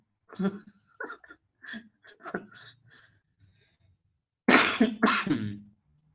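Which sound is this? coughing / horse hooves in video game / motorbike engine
coughing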